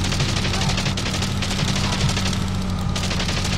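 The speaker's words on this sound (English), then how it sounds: "Can you imagine World War I style strafing? Yeah, so this is basically what it looks like." Continuous machine-gun strafing from a World War I fighter plane in the aerial dogfighting game Wings Remastered, a loud, dense rattle of rapid gunfire layered over a constant low engine drone.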